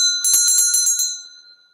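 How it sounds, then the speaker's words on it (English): A hand bell rung in a quick burst of about seven bright, ringing strikes, loud and close, with the last tone hanging and fading away alone. "I feel like I want to ring the bell"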